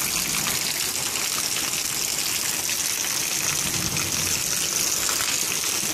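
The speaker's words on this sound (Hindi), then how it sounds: "ये बारिश इतनी सब हो रही है छत से आ रहा सारा पानी" Heavy rain pouring with water gushing steadily through a leaking roof onto a stored pile of straw, a dense, constant hiss of falling water that stays loud and unbroken.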